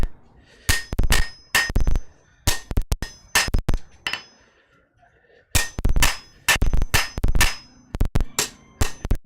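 Hammer blows on a forged steel steak flipper being straightened at a smithy anvil, sharp ringing clangs in quick bursts of several strikes, a pause, then more rapid loud clusters of hammering.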